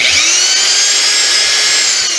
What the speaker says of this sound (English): especially on this hammer drill.